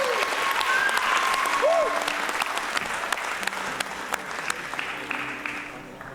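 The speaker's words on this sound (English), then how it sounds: "A big round of applause again for the orchestra team." At a Bharatanatyam arangetram, the audience gives a big round of applause for the orchestra, loud continuous clapping from a full hall with faint tonal sounds underneath, gradually thinning over six seconds.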